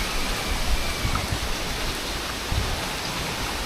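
Steady rain pouring down outdoors, a dense even hiss with soft scattered drops, close and continuous with no voices.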